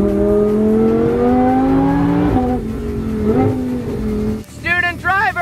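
Twin-turbo Lamborghini Huracan engine pulling hard, its loud rising harmonic drone climbing steadily through the gears, then easing off, followed by a brief burst of talk near the end.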